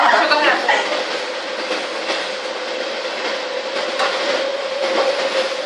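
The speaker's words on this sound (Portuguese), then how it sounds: "O trem passando." Train rolling past close by, a loud continuous rushing roar with rhythmic clatter of wheels over rail joints, steady for the whole stretch.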